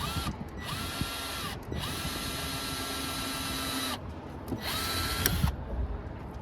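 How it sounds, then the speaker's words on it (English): A power drill whirs in several long bursts, drilling holes in a board on a sailboat, stopping and restarting between runs, close and loud with a steady motor whine. "So now I can just drill with no problem."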